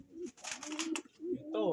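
A pigeon coos several times close by, low throaty warbling calls in quick succession, with a brief higher bird sound at the end.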